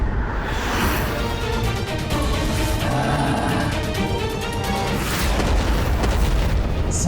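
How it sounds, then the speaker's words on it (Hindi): Continuous rumbling explosions and booming blasts in a dramatic mythological animated scene, loud and dense, with overlapping bursts sustained throughout. "सर्वत्र होते ये विस्फोट मुझे अपार आनंद दे रहे हैं।"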